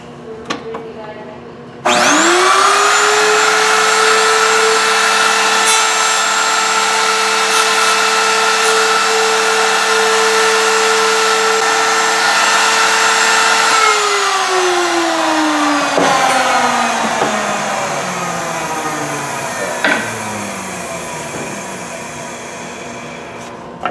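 A router bit cuts into wood guided by a pivoted fence, the machine spinning up to a loud, steady high whine that holds for over ten seconds, then winds down with falling pitch and a few small knocks.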